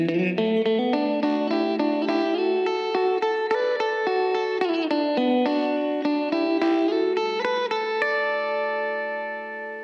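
An electric guitar plays a lead riff through a Big Sky reverb pedal on its room setting, loud and close, with the final held note ringing out into a smooth decaying tail.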